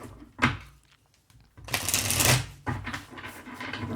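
Playing cards are shuffled up close, with two or three bursts of riffling and flicking separated by brief pauses.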